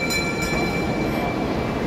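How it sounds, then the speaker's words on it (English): A small mall choo-choo train rolls past with a continuous rumbling and a thin high tonal whine, close and steady throughout the short stretch. "Look, the choo-choo train is there."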